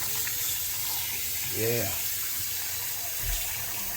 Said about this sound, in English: So we're gonna wash the shrimp and make sure, you know, shrimp nice and clean.